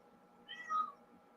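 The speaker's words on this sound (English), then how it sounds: "There's my cat." A house cat meows once or twice indoors, a short rising-and-falling cry in the middle of a quiet room, fairly close and clear with no talking over it.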